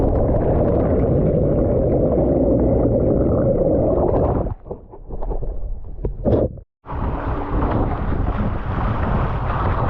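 Steady wind roars across the microphone of a Mirror dinghy at sea, a loud continuous rush that drops out briefly midway with a short gap before gusting back in just as strongly.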